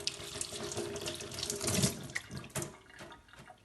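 An automatic touchless liquid dispenser releases water in a steady, close splashing stream that runs for a few seconds with slight surges and no voices.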